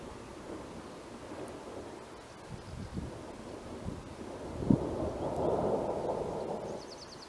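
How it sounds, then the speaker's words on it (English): Low rumbling thunder from a convergence zone thunderstorm rolls in over an open field near a windmill, building midway under steady gusting wind noise on the microphone. "Listen for the thunder from it."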